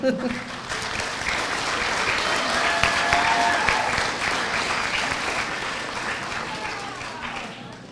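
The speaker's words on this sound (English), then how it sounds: "Give yourself a round of applause." Families and supporters at an adult school graduation ceremony break into loud, sustained applause that swells and then gradually eases, with voices and cheers blended into the clapping.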